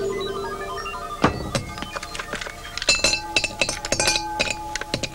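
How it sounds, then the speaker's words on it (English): Ice cubes clink and knock against glass during a science demonstration, a scatter of bright, close clinks and taps with one sharp knock early on, then a dense cluster of rattling hits. "Ice cubes, please, Tom."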